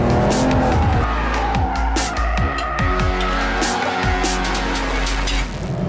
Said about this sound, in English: And here you see a little bit of oversteering.